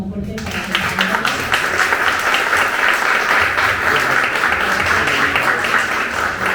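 Loud applause from a campaign rally audience welcoming a mayoral candidate, dense clapping that starts after a brief opening and carries on steadily to the end.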